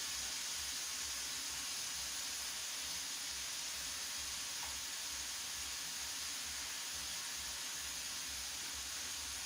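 Goat kidneys for Filipino adobo cooking on high heat in a pan, giving a steady, loud hiss and sizzle that holds without a break for several seconds and has no talk over it.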